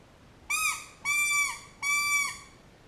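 Three separate blows on a squirrel hunting call, each a sustained harmonic squeal with a slight bend at the end. The blows come in an even series and stand close and clear against a quiet background.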